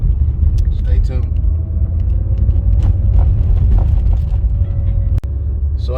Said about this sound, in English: Here's my supercar, 2017 Acura NSX.